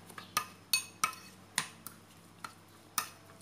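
A pickled eggplant kimchi mixture being mixed produces a series of light metallic clinks and taps of a utensil against a bowl, roughly evenly spaced and fairly quiet, with no speech.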